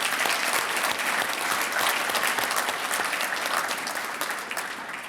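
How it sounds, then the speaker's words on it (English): A steady round of applause from the audience at the Virginia Technical Academy 2025 commencement ceremony, dense, continuous clapping from a large crowd that holds evenly for several seconds and then begins to ease. "Can we just give them a round of applause?"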